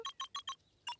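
Short electronic beeps from a phone booth keypad in the video game Beacon Pines, four quick evenly spaced tones, a pause, then two more, clear and alone.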